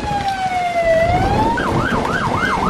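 Police sirens in the Emergency 4 London Mod video game, a falling and rising wail that switches to a fast yelp as the cars draw near, loud and steady over light traffic rumble with no talking.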